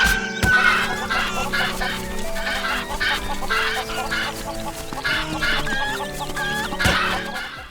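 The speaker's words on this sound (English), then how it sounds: "hitting a chicken in these Zelda games is never a good idea" Chickens from a Zelda video game cluck and squawk in rapid, repeated bursts as they attack Link. Sharp hit sounds land at about half a second and near seven seconds over a game music background.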